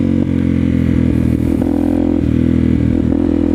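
Motorcycle accelerating hard in second gear at about half throttle to lift into a wheelie, loud steady engine drone with engine-speed shifts and clattery mechanical noise, close up.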